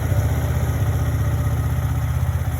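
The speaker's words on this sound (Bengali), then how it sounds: "আমি স্টার্ট দিয়ে সাউন্ডটা দেখাই।" A 2022 Indonesian-version Yamaha R15 motorcycle with about 40,900 km on it idles close by, a loud, steady, fast-pulsing single-cylinder thrum that runs evenly throughout.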